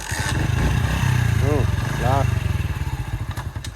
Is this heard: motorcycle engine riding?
yes